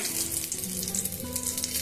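Bay leaf dropped into hot oil for a Bengali banana-stem curry, a loud continuous sizzle with dense crackling spatter, close and steady for the whole moment, no voices.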